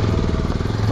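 A motorcycle engine, just serviced, runs steadily and loud with a rough, rapid low-pitched throb, heard close and alone.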